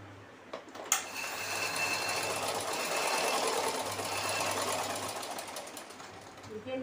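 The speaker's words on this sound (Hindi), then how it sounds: "यहाँ पे एक सिंगल सिलाई डालेंगे।" A sewing machine runs a single line of stitching on cloth for a small summer dress, a steady fast mechanical whirr after a sharp click at the start, close and continuous.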